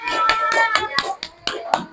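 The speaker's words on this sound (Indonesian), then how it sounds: "Tepuk tangan buat kelompok 1" A small group of schoolchildren in a classroom clap for a presenting group, giving a few sharp, uneven claps in a short rhythmic burst, close by, with children's voices mixed in.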